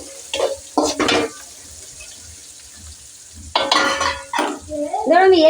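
Peanuts and roasted gram hitting a pan of softened onions, with a few loud bursts of frying and stirring separated by a quieter stretch, and a brief voice-like tone near the end.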